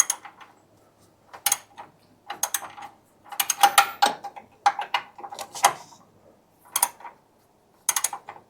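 A hand ratchet with a 13/16 socket loosens the oil drain plug on a John Deere 300, giving bursts of rapid clicking strokes separated by short pauses, close and clear.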